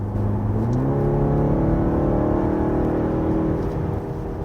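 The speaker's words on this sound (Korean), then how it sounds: "엔진음이 풍부하게 들려오면서 내가 스포츠 주행을 하고 있구나" A BMW 520i M Sport engine hums and rises steadily in pitch as it accelerates in sport mode at high RPM, a smooth, loud, continuous drone from inside the car.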